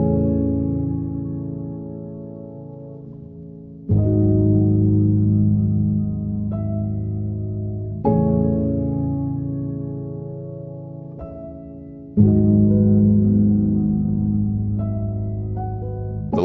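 A subdued, light piano chord progression pitched up an octave plays alone in slow held chords, each sounding gently and decaying before the next change, soft and close.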